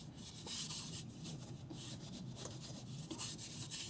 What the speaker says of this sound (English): And we're also going to be cleaning these up too with a brush.